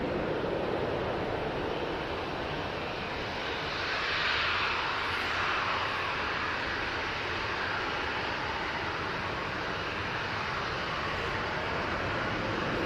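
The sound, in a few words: TUI airliner departing Manchester Airport for Corfu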